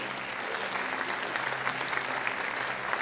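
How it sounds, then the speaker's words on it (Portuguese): A church congregation claps loudly together, a dense, steady burst of applause filling the room for a few seconds with no voices over it. "Você pode dar um forte aplauso ao Senhor aí, dar um glória a Deus?"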